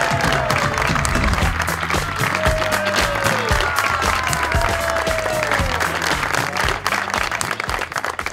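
Studio audience at the Hoshyarian talk show breaks into loud, sustained applause welcoming a couple onto the stage, dense clapping filling the whole stretch with a few whistles and a faint musical sting underneath.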